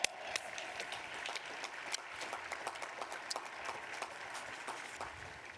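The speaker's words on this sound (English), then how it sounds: "yes, please applaud." Applause from the audience at a law school commencement ceremony, heard as a moderate, somewhat distant patter of scattered claps that continues evenly throughout.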